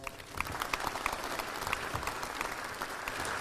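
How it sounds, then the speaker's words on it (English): Steady applause from an audience at the Monroe Civic Center, a dense patter of many hands clapping continuously throughout at a fairly even level. "Let's give them all a round of applause."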